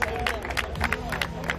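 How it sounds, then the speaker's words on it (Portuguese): Scattered clapping from a small crowd at an outdoor stance car show featuring a Golf 3 VR6 ABT, brief and fairly close, with background chatter and murmuring voices running underneath. "uma salva de palmas para os dois então"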